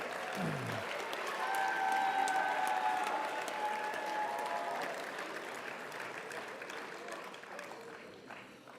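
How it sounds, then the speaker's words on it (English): A high school awards ceremony audience applauds the competition judges with a long, dense wash of clapping that swells early, then slowly thins and fades out, with faint tones and crowd murmur underneath. "So a loud round of applause for the 63 individuals that judged our competitions this year."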